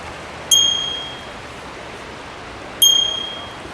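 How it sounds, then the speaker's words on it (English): On a beach, a small bell chimes twice a few seconds apart at the end of a yoga class's Shavasana. Each clear, ringing tone fades slowly over soft, steady background wash. "I'm gently going to chime this bell to signify the end of Shavasana"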